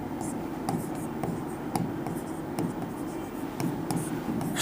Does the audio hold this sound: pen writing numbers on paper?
yes